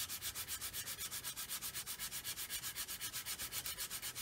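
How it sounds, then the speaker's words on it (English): A sanding stick rubs back and forth over a plastic 1/144 scale Roden C-141B Starlifter model aircraft, a quiet, close, steady rasping stroke repeated rapidly and evenly, with no voices. "sand into the area you're contouring, so that the sanding stick is actually"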